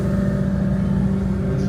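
A car engine hums and revs steadily at close range, a loud continuous drone with no voices.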